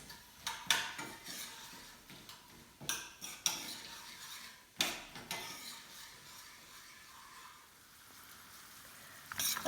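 A utensil stirs raw almonds and sugar in a pan as the sugar caramelizes, making quiet, irregular scrapes and clinks in scattered strokes with soft gaps between them.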